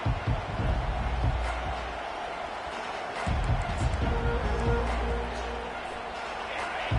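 A stadium crowd at an NCAA football game roars in a continuous, broad din after a kickoff, with surges and a distant thud, while a commentator talks over it.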